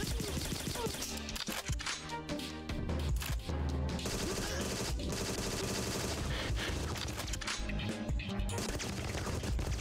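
Rapid hip-fired gunfire from the GoldenEye-inspired Bond fan demo game Agent 64: Spies Never Die, loud and nearly continuous bursts layered over game music and effects for the whole stretch.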